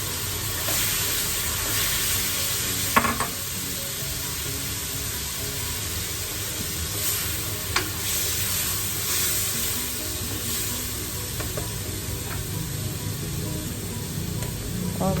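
Chopped mango added to a hot pan of Mongolian chicken, a steady soft sizzle and hiss with a few faint clinks and stirring sounds.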